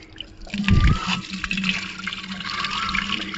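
Water is poured onto a sunny rooftop to wash it, landing in a brief splashing gush near the mic before settling into a softer trickle and spatter.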